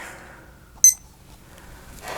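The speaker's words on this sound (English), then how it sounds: "Let me set my timer." A kitchen-style timer gives one short high electronic beep as it is set, a single close chirp in an otherwise quiet room.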